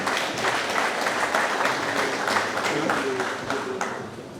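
A graduation ceremony audience applauds a graduate with a steady, dense wash of many hands clapping, sustained throughout and gently fading near the end, while a voice speaks faintly underneath.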